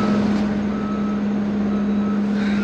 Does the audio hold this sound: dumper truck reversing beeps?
yes